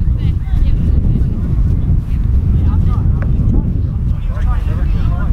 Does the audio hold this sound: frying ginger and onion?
no